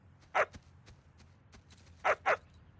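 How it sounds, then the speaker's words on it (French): Dogs bark in a cartoon scene, with three short sharp barks and a few faint yips over a quiet low background. "Les chiens de Francine se sont enfuis"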